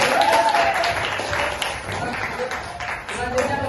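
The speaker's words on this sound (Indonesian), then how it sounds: "Tepuk tangan sekali lagi." Audience applause following a student group's inspiring presentation, dense steady clapping filling the room throughout with a crowd murmur underneath.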